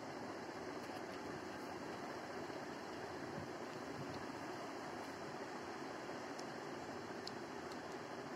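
Water pours steadily into rice in a kitchen pot for making nombu kanji, a continuous, close, gushing splash that lasts several seconds with no talking.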